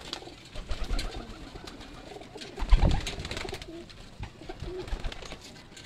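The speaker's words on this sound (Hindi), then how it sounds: "ये माशाल्लाह मैं सारे भाइयों को दिखाना चाहता हूँ अपने कबूतर" Pet pigeons in a loft of home-bred birds, soft throaty cooing repeating in low bursts close by, with wing flutters and shuffling around them.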